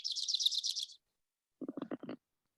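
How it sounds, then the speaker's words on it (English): A Grace's warbler sings a high, quick trill, followed after a short pause by a lower burst of rapid chirping notes; clear and isolated against silence. "this is a Grace's warbler. And this is what they sound like."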